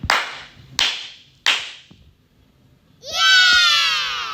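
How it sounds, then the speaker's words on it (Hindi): Three sharp, loud hand claps spaced evenly about three-quarters of a second apart, followed after a short pause by a high, drawn-out squeal or shriek. "शाबाश ताली।"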